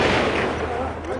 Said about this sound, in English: They wait for gaps in the gunfire